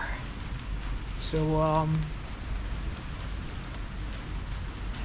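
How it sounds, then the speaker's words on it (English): Light rain falls steadily at night in a freezing Serbian downpour, a soft, even hiss under a brief voice and a short tonal sound. "It's still raining a little bit."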